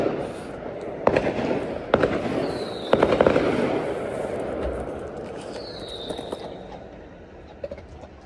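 Halloween fireworks pop and crackle in several sharp bursts at a distance, followed by whistling rockets and a service dog panting nearby.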